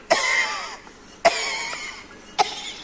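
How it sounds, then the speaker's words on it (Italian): Three loud, sharp coughs come in a slow, even rhythm, each with a short raspy tail, acted by a performer during a comedy troupe rehearsal, with no other voices around them. "Di nuovo, tosse"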